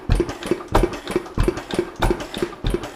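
A vintage stationary engine turns over very slowly, each firing stroke a distinct low thump in an uneven chuffing rhythm of roughly three beats a second, close and clear with no other sound.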